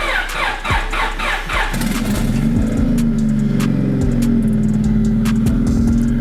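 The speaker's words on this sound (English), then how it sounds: "Let's fire up the car and see what we got going on." A turbocharged Honda Civic engine cranks and catches, then settles into a loud, steady idle close by, with a brief squeal as it fires and a raspy hum that holds to the end.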